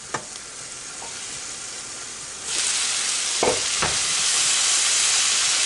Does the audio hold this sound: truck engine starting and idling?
no